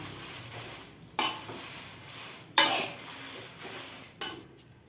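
Red chillies dry roasting in a metal pan for sambar masala, with three sharp scraping clanks of a spoon stirring against the pan over a quiet background, no talking.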